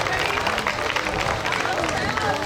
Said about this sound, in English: Let's give one more round of applause for all of the teams and especially Rachel Wyatt